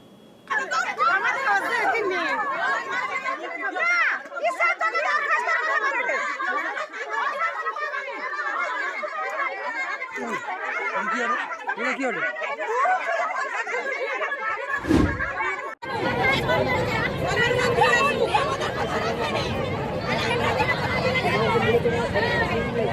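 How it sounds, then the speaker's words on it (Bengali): Crowd of women protesting in a street over unpaid Annapurna scheme money, loud overlapping shouts and chatter throughout, a sharp thump midway followed by a denser, rougher surge of voices. "বিভিন্ন জায়গায় এই অন্নপূর্ণা যোজনার টাকা না পাওয়ায় মহিলারা তারা একেবারে রাস্তায় নেমে বিক্ষোভ দেখাচ্ছেন"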